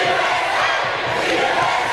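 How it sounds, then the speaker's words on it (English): A wrestling arena crowd jeering Eric Young at the 2005 NWA Bluegrass Collision Course event, a dense, loud roar of shouting voices sustained throughout with no single speaker standing out. "You see the crowd there getting on Eric Young's case."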